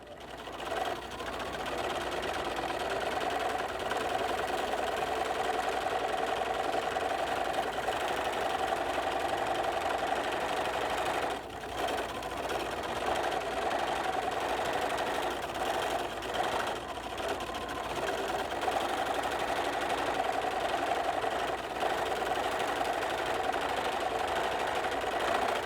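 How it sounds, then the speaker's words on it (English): A sewing machine runs steadily, edge stitching around a fabric tortilla warmer with plastic inside: a continuous close, loud whirring drone with one brief pause near the middle before it resumes. "So at the sewing machine, we're going to just edge stitch around."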